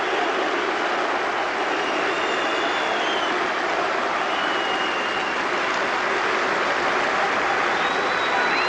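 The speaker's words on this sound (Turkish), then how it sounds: "Giresun sizinle gurur duyuyor tezahüratları" Giresunspor fans chant in a stadium as a continuous, dense crowd roar. The sound stays steady and loud throughout with no pauses, and no single voice stands out.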